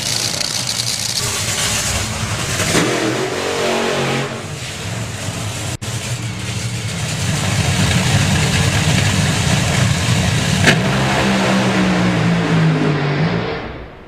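Two top fuel dragsters launch off the start line during testing at Santa Pod Raceway, a loud, continuous broadband engine roar that swells and holds for the whole stretch with no talking.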